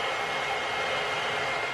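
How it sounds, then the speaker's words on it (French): A hair dryer blows hot air to soften the glue on jar labels, giving a steady, loud, continuous whooshing roar with no break and no voices. "le sèche-cheveux."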